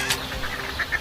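Ducks at a duck-farming village, where ducks are raised for salted eggs, give a few short, rough quacks in quick succession, heard amid steady outdoor noise.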